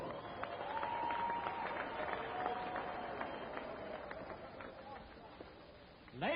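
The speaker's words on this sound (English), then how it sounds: "let's give both fighters a thunderous round of applause" Crowd applause for both fighters after a kickboxing world title fight, a steady, dense wash of clapping and cheering filling the hall for several seconds with a louder swell at the end.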